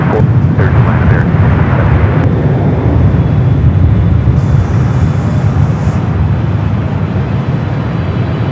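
A Boeing 777-300ER arriving from Beijing lands at Los Angeles International Airport, a loud, continuous low jet roar that fills the scene. A voice speaks briefly over it.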